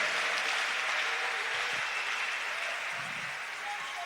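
A church congregation applauds during a worship service, a steady, even wash of clapping from a crowd throughout, with faint voices beneath.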